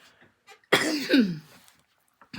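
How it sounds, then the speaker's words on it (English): One sharp, harsh cough close to the microphone, with quiet stretches before and after. "Sorry about that cough."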